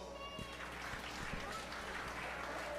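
Steady, dense clapping from an audience at a 4-H fair sheep show fills the whole stretch, close and even, with faint voices mixed in beneath it.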